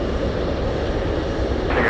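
A heavy cargo aircraft on approach to land at Anchorage with its landing gear down, a loud steady broadband engine roar filling the clip throughout, close and continuous with a slight swell near the end.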